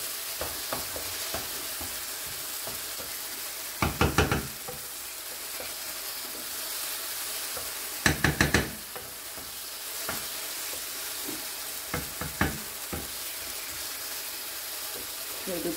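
Vegetables for Turkish menemen fry in a pan with a steady, close sizzle. Now and then a utensil scrapes and clatters as they are stirred.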